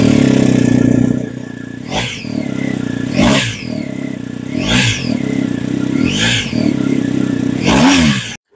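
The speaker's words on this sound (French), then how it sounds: "la 1250 elle est équipée d'un échappement optionnel à Krapovic qui renforce sa sonorité grondante" A BMW R 1250 GS flat-twin engine fitted with the optional Akrapovic exhaust is revved sharply about six times in a row, each blip rising and falling, loud and close with no talk.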